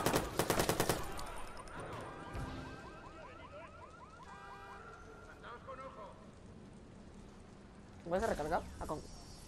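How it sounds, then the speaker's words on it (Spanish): Gunfire in the video game Watch Dogs: a rapid burst of automatic shots opens the clip, then quieter game sounds follow before another sharp volley near the end. "Balazos."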